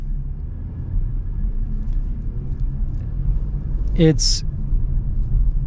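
A 2026 Nissan Kicks SV AWD, a unibody crossover with independent suspension, rolls over train tracks with a low road rumble, then a brief thump as the tires cross the rails, and a voice speaks briefly.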